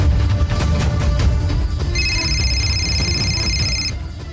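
A telephone ringtone rings over background music and ambience in an office scene of a Marathi TV serial, a steady bright repeating tone lasting about two seconds, clear and fairly loud.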